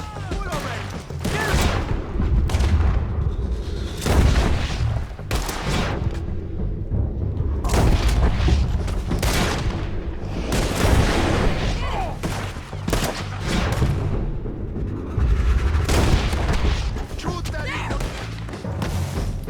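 Heavy gunfire in Red Dead Redemption 2, with repeated shots and booming volleys in a first-person shootout near a ridge and a boat. The firing is continuous and loud, with shouted voices over the top.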